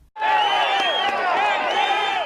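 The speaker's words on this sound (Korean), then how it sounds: "다른 곳에서도 생존자가 확인되면 환호성이 나옵니다." A crowd of rescuers at an earthquake rubble site erupts in sustained cheering and whooping when a survivor is found, loud and continuous throughout, with many overlapping voices.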